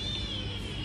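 Stray cats meow close by in a continuous, overlapping chorus of cries over steady low background noise.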